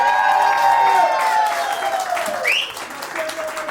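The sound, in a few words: audience applause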